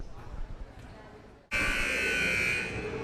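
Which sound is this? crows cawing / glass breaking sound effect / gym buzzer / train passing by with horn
gym buzzer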